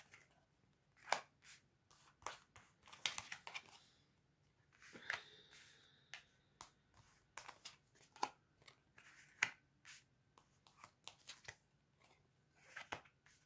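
Tarot cards being drawn and shuffled by hand in a quiet room, soft quick riffles and flicks in irregular bursts, close and fairly faint, with no talking.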